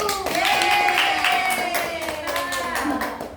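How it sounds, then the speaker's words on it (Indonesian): A science class of students claps together on a teacher's request in an Indonesian school, a short burst of scattered hand clapping mixed with voices and a rising and falling tone over the top. "tepuk tangan dulu"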